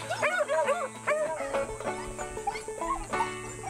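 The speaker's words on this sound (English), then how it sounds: "We'll take the rabbit dogs out hunting this morning, the beagles." Beagle hunting dogs bay and yelp in a rapid series of howling barks, close and fairly loud, several dogs overlapping in an outdoor setting.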